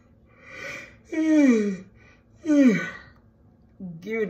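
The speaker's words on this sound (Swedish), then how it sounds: "Förlåt att jag gäspar mitt hjärta mitt i vloggen." A tired woman yawns aloud several times, drawn-out voiced sighs that slide downward in pitch, separated by brief quiet pauses, close to the microphone.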